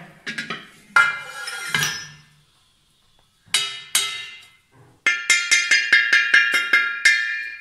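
A bronze uruli pot is struck by hand and rings out bright and bell-like, much like a temple bell. A few separate strikes come first, then a pause, then a quick run of about ten evenly spaced clangs, each ringing on as it fades.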